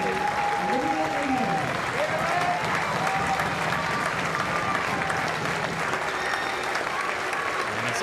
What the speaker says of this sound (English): And it's Annalie Longo who receives the applause of the Porirua Park crowd.